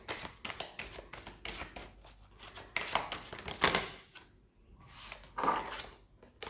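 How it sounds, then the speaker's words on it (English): Tarot cards are shuffled by hand in a quick series of crisp riffling and slapping bursts, close and fairly loud, with brief pauses between the rapid card flicks and no talking. "I'll just shuffle once more."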